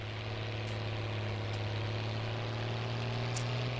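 A tractor in Farming Simulator 19 runs with a steady, low droning engine hum, even and continuous at moderate volume, with no speech over it.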